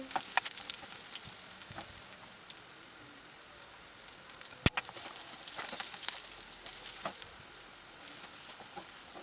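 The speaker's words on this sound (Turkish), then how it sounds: "Ve diğer kalan patlıcanlarımı da kızartıyorum." Oil sizzling and crackling steadily in a pan as eggplant slices fry, with scattered sharp pops and an occasional clack, close and moderately quiet.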